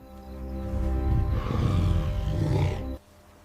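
A lion roars close and loud, a deep rising and falling bellow lasting several seconds before cutting off abruptly.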